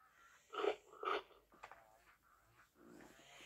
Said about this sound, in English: he's breathing fire